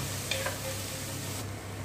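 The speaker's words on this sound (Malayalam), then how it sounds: "നമുക്ക് സവാള നമുക്ക് ജസ്റ്റ് ഒന്ന് വഴറ്റിയെടുക്കാം" Sliced onions and green chillies sautéing in a pan for vegetable upma, a steady soft sizzle running close and even throughout, with a couple of light utensil touches early on.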